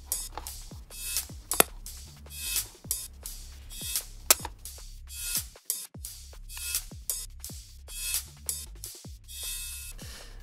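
High-passed hi-hats from an Addicted Drums kit play a steady, crisp rhythmic pattern up top, layered over a programmed drum beat with low thumps and bass notes in a produced track.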